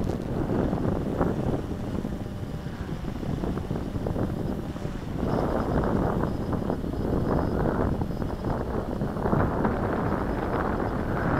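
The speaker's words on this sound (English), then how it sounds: "that's a 5-knot wind" Wind buffets the microphone outdoors during a flight of a WLToys V303 GPS drone in a light breeze, a loud continuous rumbling roar that swells and eases in gusts.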